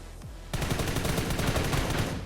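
Rapid automatic gunfire in the mobile shooter New State Mobile, starting after a brief quieter lead-in and then bursting into a loud, fast, evenly spaced stream of shots that continues to the end without talk.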